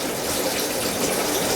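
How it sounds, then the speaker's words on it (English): A siphon hose draining water from a dirty 20-gallon long aquarium, producing a steady, close rushing and gushing flow that holds constant without pause. "It'll start sucking that water out."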